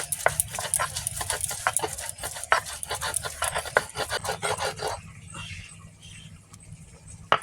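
Ginger is ground into a paste on a grinding stone, making a fast rhythmic rasping scrape of steady back-and-forth strokes close by, which stops partway through and leaves a quieter background.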